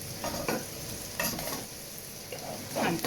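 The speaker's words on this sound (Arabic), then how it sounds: "بعد ما قلبتها نخليها تتقلى على الجهه الاخرى حتى تحمر" Sardines fry in a lightly oiled pan with a loud, close sizzle, rising in bursts as the fish are turned and shifted about.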